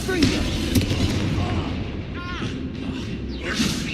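A Confringo blast spell in Hogwarts Legacy booms amid busy combat effects, with several thudding impacts and whooshes, while a voice talks over the action.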